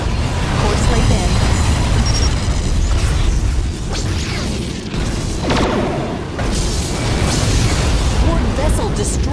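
In the video game Star Trek Legacy, a Borg vessel explodes amid space combat with a loud, sustained rumbling blast and crackling bursts, while game voices announce events over the noise.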